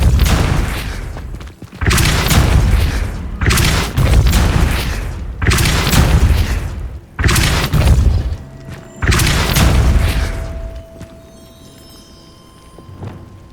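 The Depulso spell cast in Hogwarts Legacy, a series of about six heavy booming bursts, each lasting a second or more with short gaps, loud and close, fading to a quiet tonal hum at the end.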